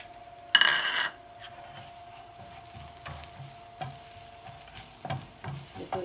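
Ramen noodles stir-fried in a pan, with a loud burst of sizzling and stirring near the start that settles into quieter frying crackle and occasional scrapes and clinks of a utensil against the pan.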